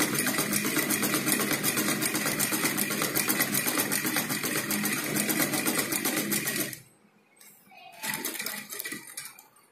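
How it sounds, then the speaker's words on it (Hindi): A sewing machine stitches a folded designer blouse back neck, running loud and steady for several seconds, then stopping briefly before a short second burst of stitching. "अब हमें यहाँ पर इसको इस तरह से फोल्ड करते हुए, यहाँ पर फोल्ड करते हुए हमको सिलाई लगानी है"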